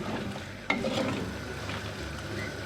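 A spoon stirs vegetable ragout in a pan on the stove, a low steady scraping and gentle sizzle with one sharp clink of utensil against the pan, close up and without talk.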